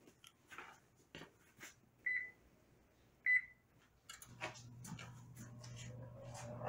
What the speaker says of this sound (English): turn your oven on 350